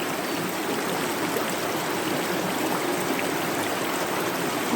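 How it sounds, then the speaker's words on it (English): A forest river flows in a constant broad rush of water, loud and close, an even unbroken wash of splashing with no voices. "So we're being brought into the river."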